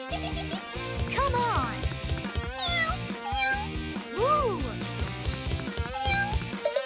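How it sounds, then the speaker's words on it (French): A cat meows for attention, several rising and falling meows over a busy backdrop of music and other sound. "Le chat veut de l'attention."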